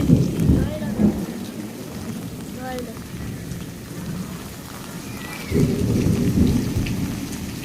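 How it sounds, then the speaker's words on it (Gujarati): Heavy rain pours steadily while deep rolls of thunder rumble, swelling at the start and again near the end. "ની વાત ન પૂછો એવો વરસાદ આવે"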